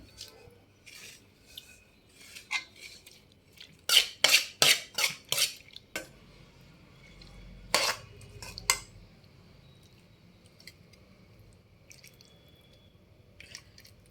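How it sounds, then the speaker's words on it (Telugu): Ridge gourd and green chillies being pounded in a stone mortar for a roti pachadi: scattered dull knocks and a quick run of louder taps and clinks, fairly quiet, with soft squishy handling between strikes. "ముందు బీరకాయ పచ్చిమిర్చి నూరుకోవాలి"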